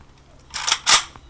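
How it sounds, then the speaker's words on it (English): Rifle bolt racked back hard at a shooting range: two sharp, close metallic clacks in quick succession, loud against a quiet background. "Rock that bolt back hard."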